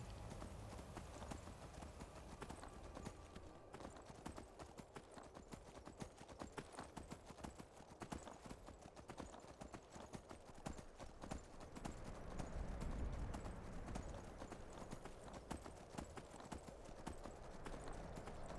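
Horse hooves clip-clopping in a farming video game, a fast continuous rhythm of sharp hoof clicks through the whole stretch, close and steady, with faint talking underneath.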